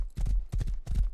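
Horse hooves galloping in the video game Rust, three quick bursts of thudding clip-clop beats in a short run, close and fairly loud with no talk over them.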